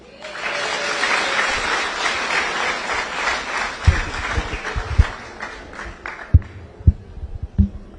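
A church audience applauds, dense clapping at a steady level that thins out toward the end into a few scattered, sharper claps.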